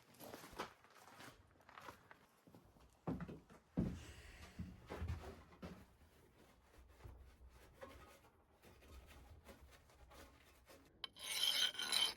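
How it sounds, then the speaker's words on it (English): A file rasping across a hardened leaf spring steel spear blade, faint irregular scraping strokes in short bursts, with a louder gritty stretch at the end. "The file is skating, so the steel's been hardened."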